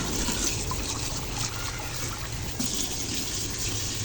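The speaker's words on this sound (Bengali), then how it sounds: "পানি দিয়ে দিব" Water poured into a pan of frying spice paste for a village-style hilsa curry, a short close splashing trickle over continuing sizzle, no voices.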